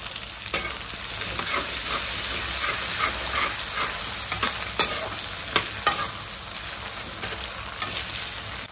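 Finely chopped tomato frying with ginger and garlic in a pan, a steady close sizzle broken by repeated scraping strokes of a spoon stirring through the pieces.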